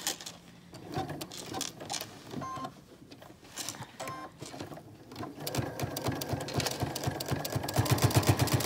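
A sewing machine stitches face mask fabric, its needle running in quick mechanical bursts with short pauses, then settling into a faster, louder steady chatter near the end, with no talking.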